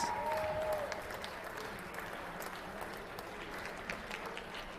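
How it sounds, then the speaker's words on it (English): A crowd in a high school gym applauds the boys basketball seniors on senior night at a Jefferson versus St. Louis Park game, with steady, moderately loud clapping and a brief sneaker squeak or whistle at the start. "How about a nice round of applause for all of our seniors?"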